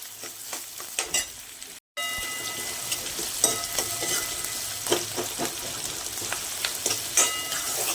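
Large chopped onion fries in a pan for sandgyachi bhaji, a traditional Maharashtrian vegetable dish, with a steady close sizzle and intermittent stirring clinks, briefly cut to silence near the start.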